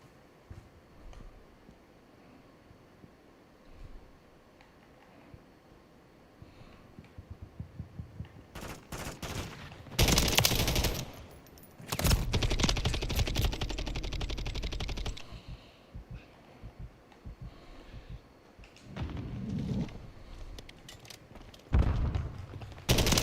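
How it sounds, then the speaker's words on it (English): Bursts of DG-58 LSW light machine gun fire in Call of Duty Modern Warfare III, loud and close, come in several volleys after a quieter stretch of footsteps and movement. "I don't want to chase that fool down with this LMG"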